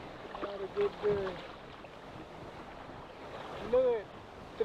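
Wind and choppy ocean waves of three to four feet wash steadily around a small fishing boat the day after a storm, with a voice speaking faintly over the rush.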